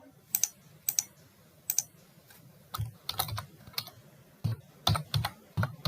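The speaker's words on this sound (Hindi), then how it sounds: "मैं लिख रही हूं यहां पर।" Keyboard typing in short irregular bursts, crisp clicky keystrokes close to the microphone with brief pauses between clusters, in an otherwise quiet room with no talking.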